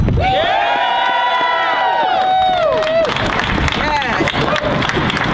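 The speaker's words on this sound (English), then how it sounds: "Give yourselves a round of applause." A large crowd cheers and claps loudly, whoops and shrill shouts rising over steady applause that continues throughout.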